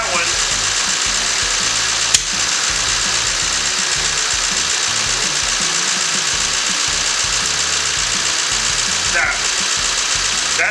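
A car engine, a Toyota 7AFE/4AFE four-cylinder with a spark plug miss, idles close up with a rough, uneven rumble while plug wires are pulled one at a time. A sharp click sounds early on, and the idle otherwise holds steady.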